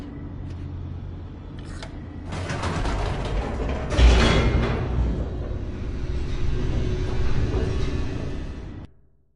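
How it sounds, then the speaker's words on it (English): Elevator in The Stanley Parable racing downward: a steady low mechanical rumble with whirring and rattling, swelling around the middle with a brief thump, then cutting off near the end. "The elevator raced downward, plummeting towards an unknown fate."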